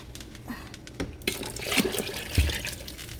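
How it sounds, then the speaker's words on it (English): Water is poured into a pot of Haitian pumpkin soup, soup joumou, bursts of splashing and gurgling liquid close up, broken by a few clunks of the pot. "I'm gonna add some water"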